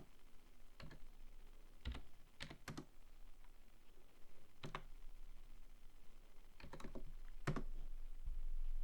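Quiet, irregular keyboard typing: scattered clicks and short bursts of keystrokes, close by over a faint background hiss.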